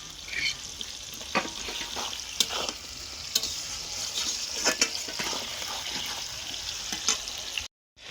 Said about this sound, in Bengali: এই দেখো কড়াতে দিয়ে দিয়েছে পেঁয়াজ, তেজপাতা, 2টো শুকনো লঙ্কা আর একটা বড় টমেটো